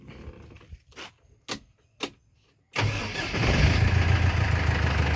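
A few short clicks and cranks, then a Proton six-wheel truck engine catches and roars into a loud, steady rumble that holds to the end.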